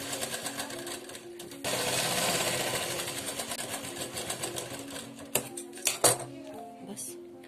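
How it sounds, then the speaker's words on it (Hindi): A sewing machine stitches the top seam of a frilled bell sleeve with a steady whirring run of several seconds. Light metallic clinks and taps of fabric handling follow, and someone speaks over the start. "हमने ये ऊपर की सिलाई लगा ली है"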